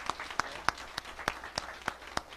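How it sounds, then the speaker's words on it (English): An audience at a presentation gives a brief, faint round of applause, sparse evenly spaced claps sounding like only a few hands, without talk. "quick round of applause for Louis,"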